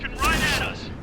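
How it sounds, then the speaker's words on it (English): A KV-5 tank shell strikes and ricochets off a Tiger P's armor in World of Tanks on Xbox One: a single sharp, loud impact burst with a brief metallic ring, fading within a second. "KV-5 does hit me, but it bounces."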